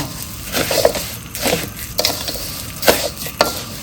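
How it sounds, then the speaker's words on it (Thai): Raw rice stirred in a pan with fried garlic oil, a scraping, rustling stir with several sharp strokes over a soft frying sizzle, close and fairly loud, no talk. "เสร็จแล้วข้าวสารใส่ลงไปเลยเจ้า ต้องหมั่นคนนะเจ้า"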